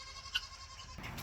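A goat on a farm bleats faintly and briefly, followed by soft rustling nearby.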